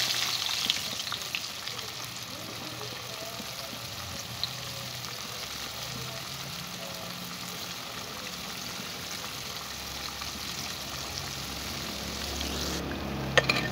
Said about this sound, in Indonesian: Lanjut goreng lagi tempe balur tepung lainnya sampai selesai.